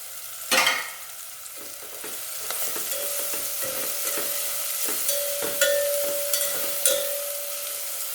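Cumin seeds frying in a pan for a Kongu-style rice and lentil dish, a soft continuous sizzle with repeated close spoon scrapes and stirring taps, plus a faint steady whine in the background.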